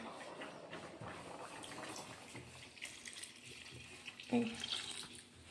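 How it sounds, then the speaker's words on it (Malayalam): Coconut milk pours and trickles softly into a pan of chicken, a quiet running-water sound with faint clinks, fairly close by. "നമുക്ക് തേങ്ങാപ്പാൽ ഒഴിക്കാം"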